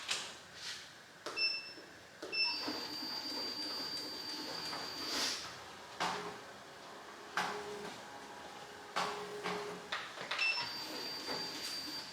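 Embroidery machine running steadily with a continuous mechanical whir and repeated clicks, thumps and brief high tones, close and moderately loud, with no talking over it.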